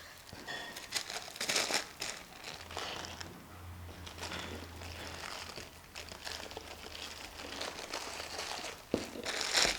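Oil paper crinkles and crackles as it is wrapped tightly around a rolled Swiss roll, with bursts of rustling and crumpling, a short quieter pause, then more close crinkling with no talk.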